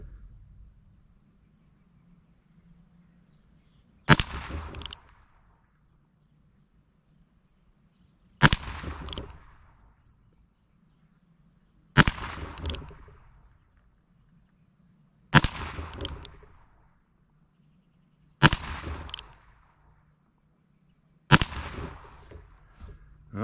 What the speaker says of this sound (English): let me go ahead and load in 6 more, and I'll shoot on the target to the right of it